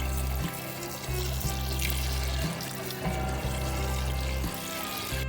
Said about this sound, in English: Pour in enough water to cover the chicken.